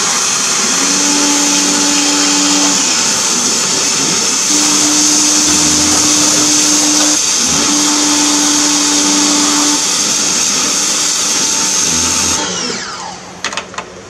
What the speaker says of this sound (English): So I ran the wire deeper in that small pipe, and then I changed tips on the pressure washer.